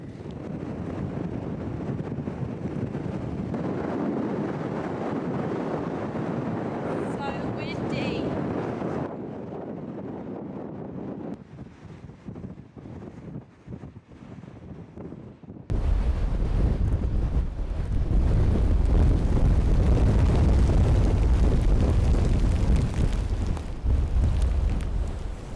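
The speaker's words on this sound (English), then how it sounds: "The wind and the sandstorms were crazy this day" Savage wind whipping sand across a remote route in Iceland, heavy roaring gusts buffeting the microphone, easing briefly mid-way before slamming back in louder and rumbling, close and constant with no voices.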